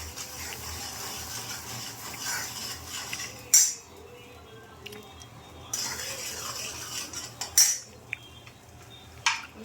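Utensil scraping and stirring in a pan, with metallic clinks and bursts of scraping that come and go, a few louder clanks standing out over a low steady background.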